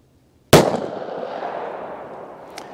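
A snub nose revolver fires a single hard cast round outdoors, a loud sharp crack followed by a long rolling echo that fades over about two seconds.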